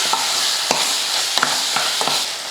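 Minced chicken being stirred through a pot with salt and ground paste, with a steady soft sizzle and scraping strokes every half second or so.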